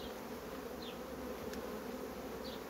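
Honeybees buzzing steadily at a two-box hive colony during a strong nectar flow, a dense continuous drone with occasional individual bees passing close.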